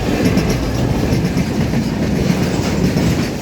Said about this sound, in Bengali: না না, এখান পেট্রোল ট্রেন,